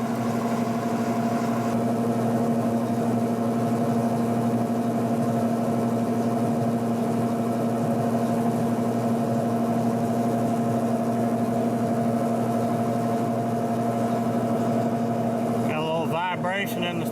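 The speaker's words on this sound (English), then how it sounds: "Vibration in the spindle there from the motor." A machine tool's spindle motor runs steadily with a tonal hum and a slight vibrating buzz, close and constant, until brief clattering noise near the end.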